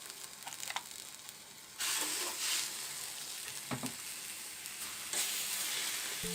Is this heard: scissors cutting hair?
no